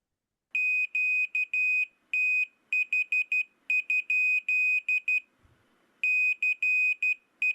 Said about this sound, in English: this is the original Arduino Uno back from 10 years ago, connected to a little piezo buzzer.